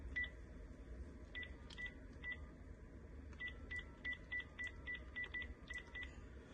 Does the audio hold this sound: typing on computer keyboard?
no